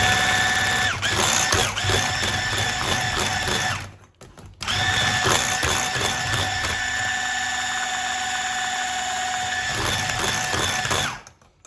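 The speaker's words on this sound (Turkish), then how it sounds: "O yüzden şöyle sıyırıp tekrar çırpacağım şimdi." An electric mixer whisks apple cake batter in a bowl, droning loud and steady with a brief dip in the middle before starting again, and no talk over it.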